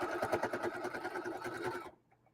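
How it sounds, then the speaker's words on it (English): Sewing machine stitching fabric strips for a double-sided casserole pad, a close rapid rhythmic chatter of the needle that runs steadily and then stops abruptly near the end. "I'm sewing these two pieces."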